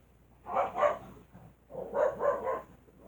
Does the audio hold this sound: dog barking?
yes